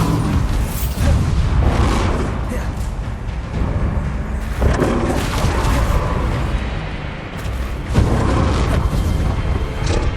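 Repeated heavy spell blasts from the Bombarda curse in Hogwarts Legacy, played in VR, booming one after another with dense, rumbling bursts that keep the whole stretch loud and busy.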